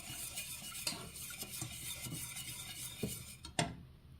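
A spoon stirring coq au vin in a pan, soft repeated scrapes and light clinks at a gentle irregular pace, close and fairly quiet, with a sharper metallic knock near the end.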